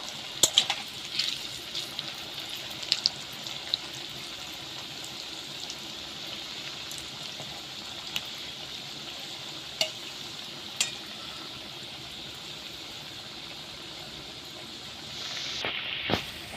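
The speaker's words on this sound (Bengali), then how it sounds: "এরকমভাবে উল্টে পাল্টে আমি ভালো করে ভেজে নেব" Pieces of semolina sweet frying in hot oil in a pan, a steady even sizzle throughout with a few faint clicks as they are turned, rising briefly louder near the end.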